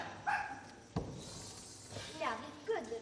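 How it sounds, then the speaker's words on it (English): Small dog Toto, a terrier, gives a few sharp barks and yips amid a stage scene, with bursts spaced across a few seconds, mid-distance, mixed with background music and voices. "This is my dog, Toto."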